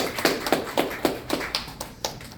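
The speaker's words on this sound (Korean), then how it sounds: "대한민국에서 영어를 가장 잘하시는 민경대 교수님 박수 한번 보내주세요." A gathered group claps for a professor at a preliminary meeting ahead of a founding ceremony: a few hands strike in a brisk, even rhythm of close, sharp claps.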